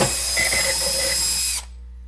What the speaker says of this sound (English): You want to let the sharpness of the drill and the speed of the drill the hole instead of you pushing on it.